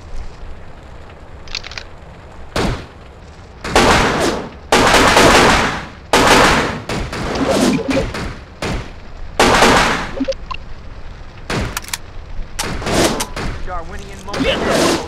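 Heavy gunfire in America's Army: Rise of a Soldier on an overpass mission, with loud repeated bursts, machine-gun rattles and sharp cracks, some explosive hits, while soldiers shout over the shooting.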